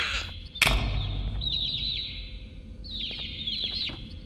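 Baby Opila birds in the video game Garten of Banban 2: high, rapid chirping trills in two bursts after a sharp thump at the start, fairly close and clear over a quiet background.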